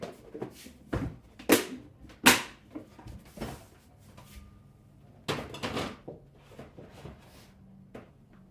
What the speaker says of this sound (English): Let me get my wok ready.